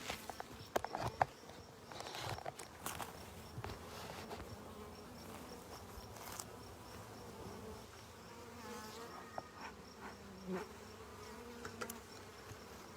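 Honey bees buzz around beehives outdoors, a faint, continuous insect hum with occasional louder passes near the microphone and scattered rustling and thumps.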